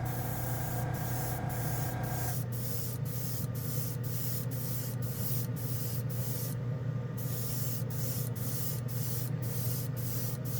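An airbrush sprays OdenKan Final Chrome paint onto a black plastic spoon, giving a continuous close hiss broken by rapid, regular short interruptions as the trigger pulses, alongside a steady low hum.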